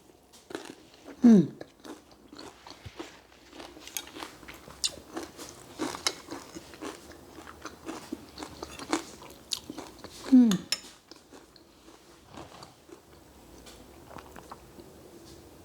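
Crunchy fermented Hmong pickled mustard greens are chewed close to the mic, two loud crisp bites followed by steady moist crunching and munching in a quiet room.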